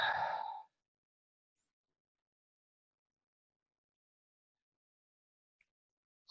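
A single long breathy exhale during a chakra flow yoga session, close and audible for under a second, followed by near silence and a faint click at the end.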